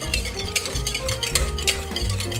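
Wet batter of baking soda, buttermilk and vinegar being stirred in a bowl for an old family recipe, a steady close scraping and swishing that carries on without pause.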